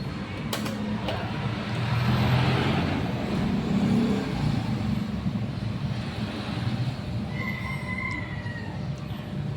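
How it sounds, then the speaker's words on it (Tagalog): A Honda Click 125 scooter with a code 21 oxygen sensor fault revs at full throttle, a steady, close engine drone that swells and holds without a break. "full throttle natin para mag-ECM initialization tayo"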